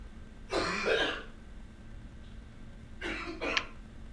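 Two short bursts of coughing or throat clearing, fairly faint and a little distant, separated by a quiet pause.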